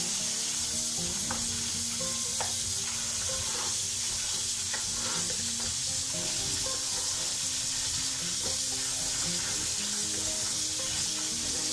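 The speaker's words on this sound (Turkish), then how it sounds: "Şöyle bunu soğuk suyla güzelce yıkayacağım." Cold water rushes and splashes steadily over green olives in a basin, a constant close hiss with small clinks and stirring sounds, and no talking.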